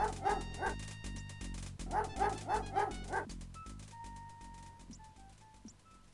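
A dog in the video game King's Quest 5 gives a run of sharp, rhythmic synthesized barks and yips, then fades into whimpers over a game music background.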